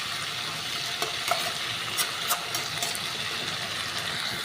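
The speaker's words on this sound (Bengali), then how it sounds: "আমি মশলার ভেতরে এই কচুরমুখীগুলোকে দিয়ে দিয়েছি। দেখো এটা থেকে তেল ছেড়ে দিয়েছে, এটা কষানো হয়েও গেছে" Taro roots sauté in oil and spice masala, sizzling steadily under several clinking spoon stirs and scrapes against the pan, with no one talking.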